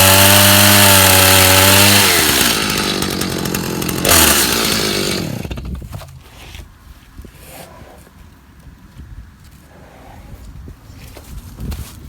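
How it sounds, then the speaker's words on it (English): Chainsaw finishing a cut through a rough white oak log beside a Woodland Mills HM126 sawmill, loud and close for the first four seconds, then dropping to a low idle and fading into quieter workshop noise. "I'm gonna just finish that cut with the chainsaw"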